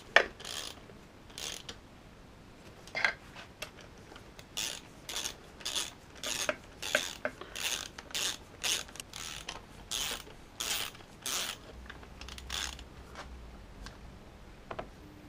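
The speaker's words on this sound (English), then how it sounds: "torque the bolts." Bolts are torqued on a Ford FMX automatic transmission during a rebuild, a run of sharp ratcheting clicks and clacks in irregular bursts, close and clear, with no talk.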